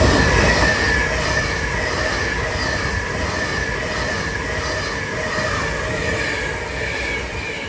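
An Avanti West Coast Pendolino on the London Euston to Glasgow Central service rushes through Crewe on the West Coast Main Line, a loud sustained roar of wheels and rail noise with a high whine, fading slightly as it passes.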